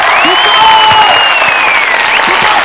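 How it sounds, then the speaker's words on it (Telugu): Audience applause on a Telugu TV game show stage: dense, steady clapping from a crowd that holds for the whole stretch, with a high whistle riding over it. "ఈవిడికి ఇలా చప్పట్లు కొడితే సరిపోదు"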